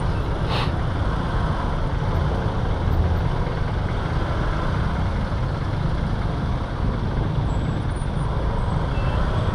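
Heavy road traffic in Parañaque, with trucks and buses, makes a constant low rumble of engines idling and moving, a dense, even wash of vehicle noise with no talking.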